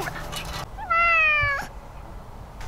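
A cat gives one clear, rising-then-falling meow close by outdoors, after a short burst of other noise and before quiet settles again.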